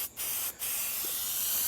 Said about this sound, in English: So I take this stuff and just spray it on here.